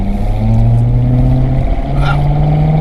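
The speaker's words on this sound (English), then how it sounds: "Had a good launch, just a little bit of wheel spin." A car launches hard at a drag strip with slight wheel spin, its engine note loud and steady, rising in pitch as it pulls away, with a brief higher squeal partway through.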